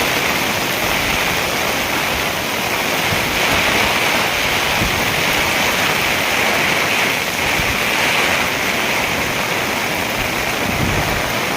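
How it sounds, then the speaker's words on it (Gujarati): Heavy, unbroken rain in Patan with water running through the streets, a loud, dense hiss that stays level throughout, with no pauses and no voices. "સવારે 7 વાગ્યાથી અત્યારે પણ અવિરત વરસાદ ચાલુ છે."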